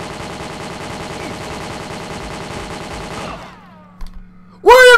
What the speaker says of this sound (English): What are the machine gun turrets there?